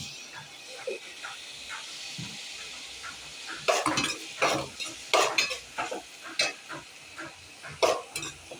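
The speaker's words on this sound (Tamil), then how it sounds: "அடுத்து ஒரு பேன் எடுத்துகிட்டு எண்ணெய் ஊற்றிக்கிட்டு வெங்காயம், தக்காளி," Onion and tomato fry in oil in a pan, with a spoon scraping and stirring in irregular bursts over a soft sizzle that grows louder partway through.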